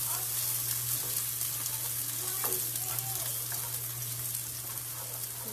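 Onion frying in a pan for a vegan strata, a steady close hiss and crackle of sizzling oil over a constant low hum, with a few faint stirring scrapes and no talk.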